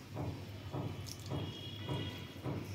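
Wet squelching bursts come as grated coconut is squeezed by hand in a bowl to press out coconut milk, in a steady rhythm of about five soft squeezes, close and fairly quiet.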